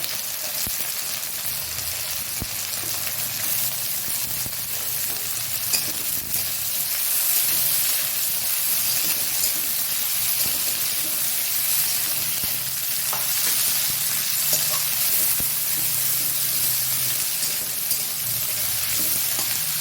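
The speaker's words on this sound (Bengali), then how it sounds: "পেঁয়াজটা ভাজা ভাজা হয়েছে দিয়ে দিলাম উচ্ছে উচ্ছেটা দিয়ে দিলাম আগে" Bitter gourd slices hiss and sizzle loudly with browned onions in a hot pan, a dense, steady frying sound that holds evenly throughout with no talking.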